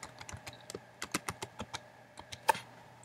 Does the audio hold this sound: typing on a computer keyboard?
yes